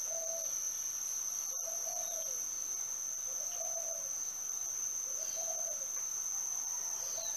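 Crickets after rain at night keep up a loud, unbroken high-pitched trill, while a soft, low cooing call repeats every second or so underneath.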